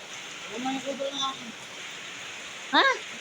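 Heavy rain pours steadily as a constant hiss of falling water close by, while people talk over it.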